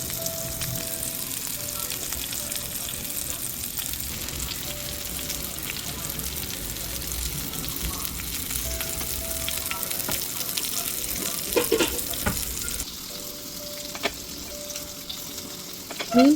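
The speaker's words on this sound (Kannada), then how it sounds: "ಮೀನು ಫ್ರೈ ಮಾಡುವಾಗ ಸ್ವಲ್ಪ ಎಣ್ಣೆ ಜಾಸ್ತಿನೇ ಬೇಕು" Bangude mackerel fries steadily in plenty of oil with curry leaves, a continuous dense sizzle and crackle running throughout with occasional brief sharper pops and stirring near the end.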